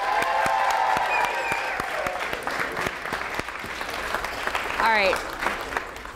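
A comedy show audience applauds steadily, a dense wash of clapping that thins out over a few seconds while a performer speaks over it.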